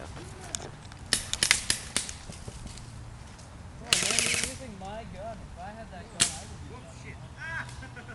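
Airsoft guns firing in an outdoor skirmish, with bursts of sharp rapid cracks and scattered single pops, one loud burst in the middle, while players talk and shout throughout.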